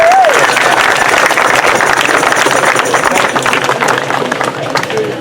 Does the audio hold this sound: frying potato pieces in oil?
no